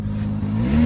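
1995 Toyota Corolla 1.6 4AFE engine revving on a test stand, a brief close rev whose pitch climbs steadily as the engine speeds up.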